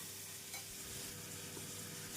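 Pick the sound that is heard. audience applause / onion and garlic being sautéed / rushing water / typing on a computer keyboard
onion and garlic being sautéed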